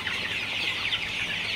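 Sonali super hybrid chickens in a poultry shed at 42 days old, a flock clucking and chattering together in a continuous busy murmur, close and fairly loud, with no talk.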